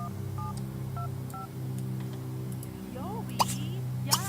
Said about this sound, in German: Erst holt jemand und jetzt telefoniert einer.